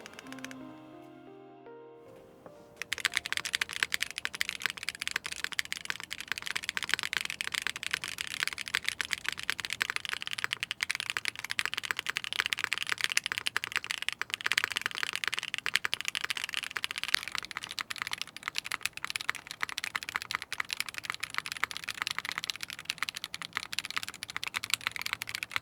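Rapid, continuous keystrokes on a QK65 V2 mechanical keyboard with a non-flex-cut, PCB-mounted plate, a dense clacking patter heard close and alone after a short quiet start.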